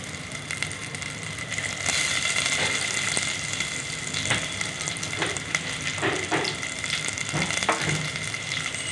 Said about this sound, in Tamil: எண்ணெய் சூடானதும் கடுகுளுந்தம் பருப்பு சேர்த்துக்கலாம், கருவேப்பிலை, சின்ன வெங்காயத்தை பொடி பொடியாக சாப் பண்ணி சேர்த்துக்கலாம்.